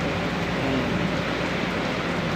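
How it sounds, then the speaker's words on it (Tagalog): Heavy rain pours steadily on a rainy morning in Mariveles, Bataan, a dense, even broadband hiss with no breaks, close and loud, with no talk over it. "grabe ang ulan, oh"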